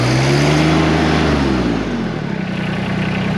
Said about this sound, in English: and that engine's going to start